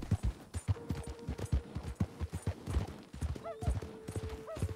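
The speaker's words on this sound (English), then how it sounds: "let's get this horse moving" Horse hooves trot in Red Dead Online, a steady rhythmic clip-clop of hoofbeats at moderate distance, accompanied by occasional jingling tack and a faint background tone.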